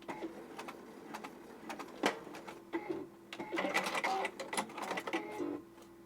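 A sewing machine runs in short bursts of stitching, its motor whirring and needle clattering close by, pausing between runs and speeding into a longer steady stretch before stopping.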